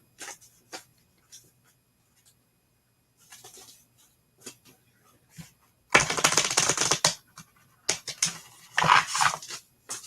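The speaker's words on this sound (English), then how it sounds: "Go ahead and tell me when to stop shuffling." Tarot cards are shuffled by hand: a few scattered soft taps and slides, then two dense, rustling bursts of riffling, the first longer than the second, close by and with no talking.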